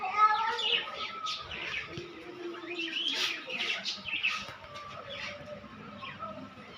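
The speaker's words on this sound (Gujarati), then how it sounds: "પોપટ" A pet parrot calls in a home, giving a string of squawks and chirps with soft cooing tones, fairly close and moderately loud, with no speech.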